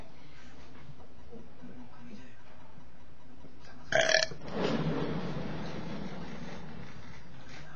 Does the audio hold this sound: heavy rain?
no